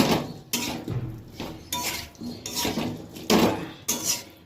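Fried potatoes go into a pan of spiced masala for a tangra fish curry, and a metal spoon scrapes and clanks against the pan again and again in an uneven rhythm, close and fairly loud, with no talking.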